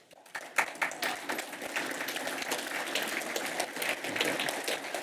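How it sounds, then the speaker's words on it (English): Audience at a lecture breaking into applause, a dense, steady patter of many hands clapping at moderate distance that swells quickly and holds evenly. "I'll make sure he hears this applause too."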